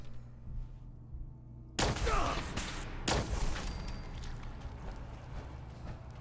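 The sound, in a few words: gunfire fire support in video game Fallout 4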